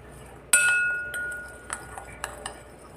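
A utensil clinks sharply against a bowl while mackerel marinade for a Kerala-style fish dish is mixed, starting with one loud clink and followed by several lighter taps.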